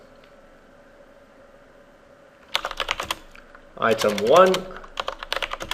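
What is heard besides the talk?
typing notes on a computer keyboard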